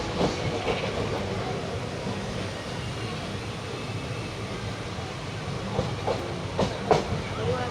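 A train pulls into Bardhaman Junction, running about half an hour late, with a steady rumble and hiss of rolling carriages and rhythmic clickety-clack of the wheels. A few sharper knocks and clanks rise near the end.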